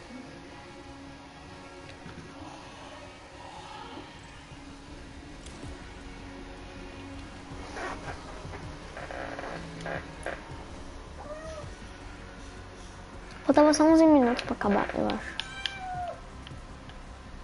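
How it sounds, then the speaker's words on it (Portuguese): A cat meows several times, a few short calls and then a louder, drawn-out burst, over quiet background noise while people talk intermittently. "Por que você tá miando?"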